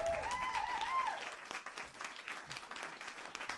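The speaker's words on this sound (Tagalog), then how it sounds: "Palakpakan." A crowd applauding at a political gathering: a brief burst of steady, dense clapping, fairly faint and distant, with a voice briefly audible at the start.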